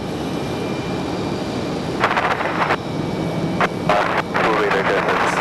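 An American Airlines Boeing 737 MAX 8 jet at Raleigh-Durham airport gives a steady broad roar, with bursts of radio chatter and a voice over it.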